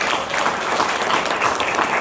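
A church retreat gathering breaks into applause, a loud, even patter of many hands clapping together without pause.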